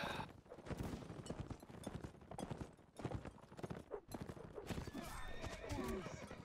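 A horse whinnies amid rapid hoofbeats clip-clopping, with bursts of gunfire and battle noise layered around it.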